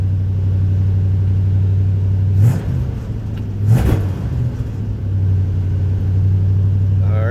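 A 1978 Chevrolet 4x4 engine idling after stepping down from cold fast idle, a loud, steady low rumble close by with a couple of brief bursts of extra noise rising over it mid-way, no talking.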